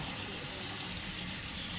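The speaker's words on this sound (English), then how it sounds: "it's pretty dark water coming out on the other side" Water from a tap rinsing through a K&N air filter during cleaning, a steady close hiss and splash of flowing water that stays even throughout.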